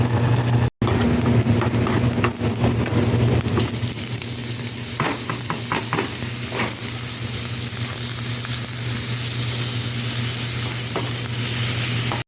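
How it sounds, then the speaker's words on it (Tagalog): Frozen green peas frying in a pan, a steady loud sizzle over a constant low hum, with scattered scraping and clicking stirs throughout and no speech. "Ito ay green peas. Iprito natin kasi frozen lahat."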